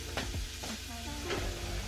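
Meat sizzles in a hot pan while being stirred for a zucchini noodle dish, a steady close frying hiss broken by a few scraping stirs of a utensil.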